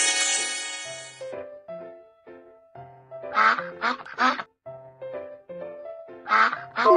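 A cartoon duck quacks in several loud, nasal bursts grouped in pairs, close and clear over a simple background tune.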